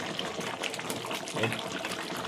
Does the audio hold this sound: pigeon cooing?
no